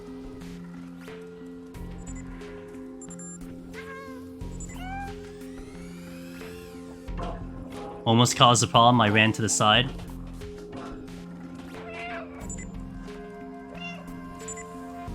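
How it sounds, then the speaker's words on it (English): Cat in the video game Stray giving a loud cluster of meows in quick succession, near and prominent over soft ambient game music, with someone talking briefly before it. "I am meowing to bait out those sentinels"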